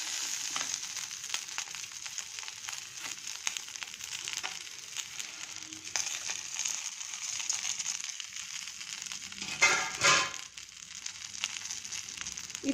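Greens, coriander, garlic, curry leaves and roasted gram sizzle in hot oil with a steady bright crackle throughout, a brief louder burst of frying near the end as the pan is stirred.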